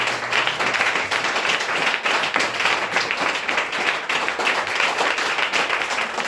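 A church congregation applauding in praise of the Lord: steady, loud, sustained clapping from many hands filling the room, with no pause throughout.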